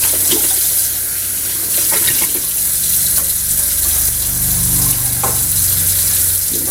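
Tap water runs steadily from a faucet as a test vial is rinsed, loud and close, with a continuous splashing hiss and small shifts as the stream hits the vial.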